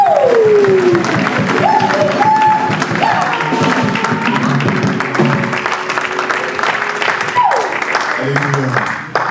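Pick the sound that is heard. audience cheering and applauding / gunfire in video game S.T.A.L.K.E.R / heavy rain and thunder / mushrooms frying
audience cheering and applauding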